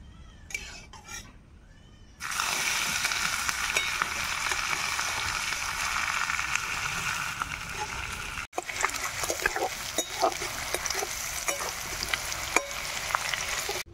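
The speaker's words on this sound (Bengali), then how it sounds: "এইবার দিব কুচনো পেঁয়াজ।" Chopped onion dropped into hot oil with bay leaf, dried chilli, cardamom and cinnamon for a home-style mutton curry, a brief quiet start then a sudden loud, steady sizzle with clinks and stirring scrapes throughout.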